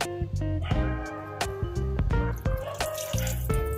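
Water is poured into batter for garelu (lentil fritters) inside a running SmartFingers Comfort Plus wet grinder, a steady close splashing and trickling over the machine's continuous humming drone with a few sharp clinks.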